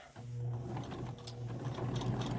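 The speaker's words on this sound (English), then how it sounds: "do a bit of back stitch and quickly go through on that raw edge." Sewing machine running a zigzag back stitch along the raw edge of a fabric face mask, a steady close mechanical whir with a low hum that holds throughout, alone without talk.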